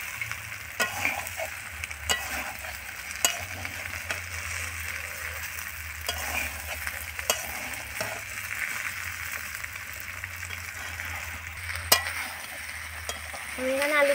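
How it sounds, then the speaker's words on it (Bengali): Fried potatoes being sautéed into a meat curry in a pan, a continuous close sizzle with regular spoon scrapes and clinks throughout. "আলুগুলো দিয়ে আমি এখানে আর 2-3 মিনিট মতো এরকমভাবে কষিয়ে নেব"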